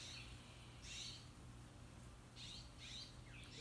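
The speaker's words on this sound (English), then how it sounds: "I'm sorry if you hear that bird." Faint bird calls repeat outdoors, a few short chirping bursts over a low background hum, with gaps between them.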